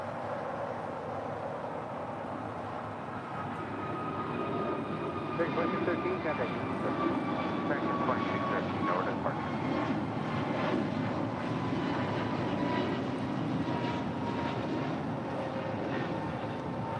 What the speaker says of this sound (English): That was American Airlines Flight 2613. It's an A321neo.